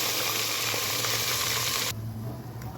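Tomato paste hits hot fried onion in a pan with a loud, steady close sizzle that drops abruptly to a softer hiss near the end.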